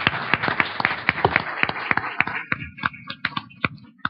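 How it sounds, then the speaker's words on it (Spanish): A small audience at a tourism presentation gives brief applause, a flurry of close, crisp claps that thins out into a few scattered, separate claps toward the end. "Un aplauso."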